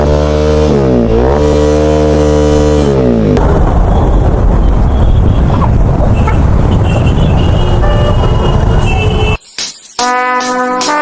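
A KTM motorcycle with a loud aftermarket exhaust roars close by, moving from a droning idle to a harsh, blaring rev before dropping briefly and idling again, stopped at a Kolkata police check.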